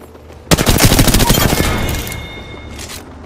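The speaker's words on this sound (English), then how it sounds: "Getting shot at." Gunfire in the video game Apex Legends, a loud close burst of rapid automatic shots that starts abruptly and trails off into a fading echo, with a short later rattle.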